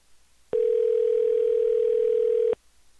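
A steady, loud telephone tone drones for about two seconds during a call-in transfer on a phone line that is acting up, starting and stopping abruptly with faint hiss around it.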